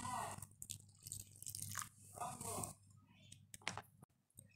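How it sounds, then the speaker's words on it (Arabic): Stirring two spoonfuls of tahini powder with warm water in a bowl: close, irregular scraping and clicking of a spoon against the bowl in short bursts, with quiet pauses between strokes. "حطينا ميه دافيه وهنقلب كده"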